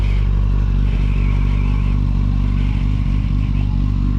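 Motorcycle engine running steadily at a close, loud level, a deep throbbing drone with a constant rumble and faint mechanical clatter, with no clear voices over it.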